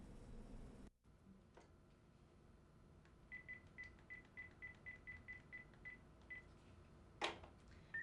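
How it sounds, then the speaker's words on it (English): Telephone dialing for a phone interview on a university news program: a steady run of about a dozen short, evenly spaced touch-tone beeps over a low background hum, closing with a brief brighter tone. "Today we're going to be joined by Brad Cohen via phone from the state of Georgia."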